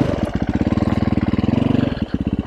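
A Sherco SEF 450 French-made dual sport motorcycle engine putts along at low revs, a steady rapid loud thumping pulse heard up close that falters briefly near the end before resuming.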